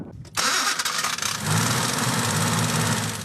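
A wood-gas-powered 1979 Mercedes car engine starts with a burst and settles into a steady, rough running rumble close by, loud and continuous.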